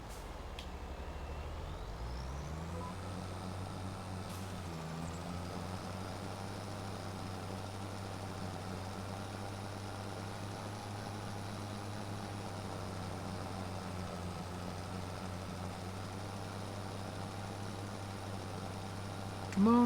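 A tractor engine in the Farming Simulator 25 video game drones steadily as it pulls uphill, a low continuous labouring hum that shifts pitch briefly early on and then holds constant, with no talk.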